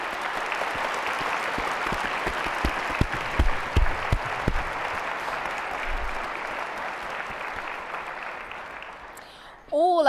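Sustained applause from a large room full of people at an African journalism awards ceremony, steady and dense for several seconds, tapering slightly before a voice cuts in at the end.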